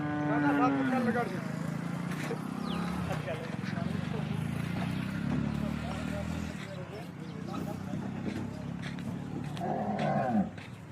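Cows moo in a farm setting, a long low call rising near the start and later calls amid steady background bustle, with people talking throughout.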